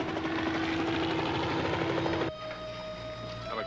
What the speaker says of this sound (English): There's a helicopter directly overhead.